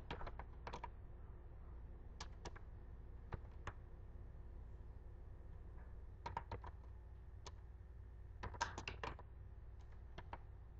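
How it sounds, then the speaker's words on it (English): Keystrokes on a computer keyboard, typing a business name into a search: scattered clusters of quick, light clicks with pauses between bursts, fairly close, over a steady low room hum. "So we're going to type North American Power out of South Norwalk, Connecticut."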